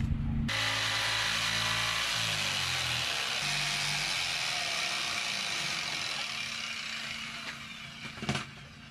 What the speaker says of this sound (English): To make rip cuts, I used a jigsaw